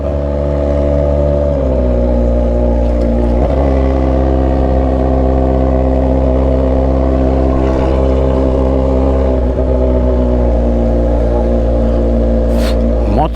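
Kawasaki Z900RS motorcycle engine with an Atalla stainless steel 304 header and muffler, a loud steady idle rumble with a few brief revs, close by, with voices faintly in the background.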